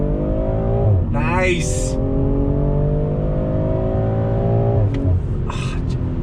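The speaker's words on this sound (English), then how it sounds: "I like the pops I'm getting from the downshifts. I have it in sport mode right now, back on throttle." A BMW M340i sedan in sport mode revs up with a rising engine note, then drops through downshifts with crackling exhaust pops before pulling back on throttle; loud and close from inside the cabin, with a brief spoken word.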